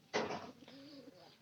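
A pigeon gives a soft, low coo, a single brief call following a short rustle, faint and close.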